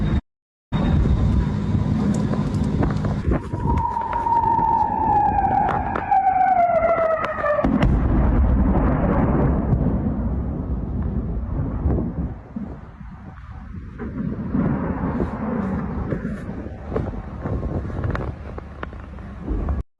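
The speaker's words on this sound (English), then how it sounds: "This is the sound of a Kinsal." A Kinzhal (Dagger) ballistic missile roars past in a steady, loud rushing whoosh with a descending whine, broadband and continuous, fading slightly toward the end.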